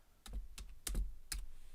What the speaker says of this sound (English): I'll hit enter on my keyboard